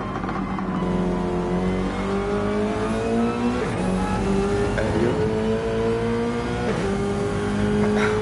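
Race cars, including a Subaru BRZ, brake downhill into the Goodyear hairpin at the Nürburgring GP circuit in Gran Turismo 7. Several loud engines snarl and shift pitch together as they downshift, with brief tyre squeals.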